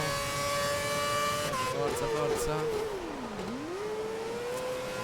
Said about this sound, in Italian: il motore della Williams non è un rumore, non è un motore che emette un ronco, è una voce il motore della Williams